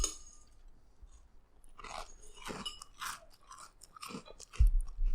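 Crunchy Freedom XO Cocoa Crunch cereal is chewed close up in a series of sharp, irregular crunches that build from quiet to a loud bite near the end.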